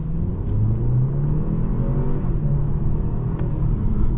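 A 2023 BMW 530i engine rumbles steadily and its pitch climbs as the car pulls away from a green light and accelerates, heard from inside the car.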